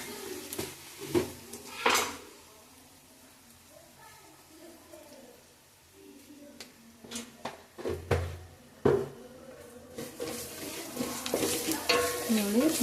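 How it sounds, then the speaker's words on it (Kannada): Food fries and is stirred in a pan, with irregular clanks and scrapes of the utensil over a soft sizzle while voices murmur at times. "ನೋಡಿ ಹಿಂಗೆಲ್ಲ ಫ್ರೈ ಮಾಡಬೇಕು."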